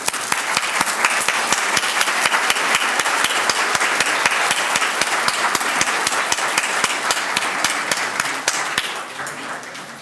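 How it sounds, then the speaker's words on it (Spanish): An audience at a conference applauds to see off the presidium, a dense, loud, continuous round of clapping from many hands that fades slightly at the end. "pido un fuerte aplauso para despedirlos"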